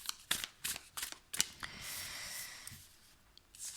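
Tarot cards shuffled during a French-language love reading, a few crisp riffling bursts and taps close up and fairly quiet, followed by a softer sustained rustle, with no talking.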